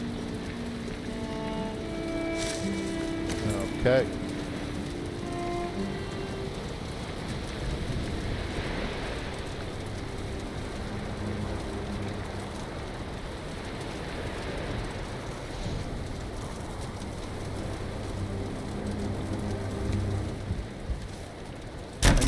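Rain falls in the survival game Valheim as a steady hiss, with soft musical tones drifting over it and a brief word spoken once.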